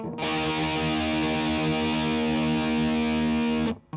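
An electric guitar played through a Tantrum distortion pedal, a single thick sustained chord ringing loud and steady for several seconds before being cut off, with no talking.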